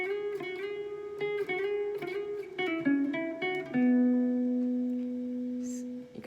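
A clean guitar plays a quick run of picked notes from the solo of a song, then holds a final note that shimmers with light vibrato. It sounds fairly quiet and close.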